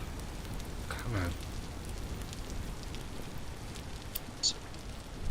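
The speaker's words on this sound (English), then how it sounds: "since it's raining so much, these are staying high moisture levels because it's just constantly raining" Constant rain pattering down in the video game Vintage Story, a soft even hiss with a few faint chimes and bumps scattered through it.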